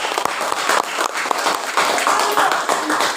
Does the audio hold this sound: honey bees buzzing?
no